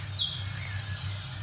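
Faint, high-pitched bird tweets, one slightly sliding, drift over a constant low background drone, sparse and distant-sounding.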